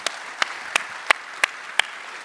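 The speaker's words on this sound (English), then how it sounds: "Round of applause." Audience applause at a tech conference fireside chat with Shopify's CEO at Editions.dev 2025, heard as a short sequence of about six sharp, evenly spaced claps over a low crowd murmur.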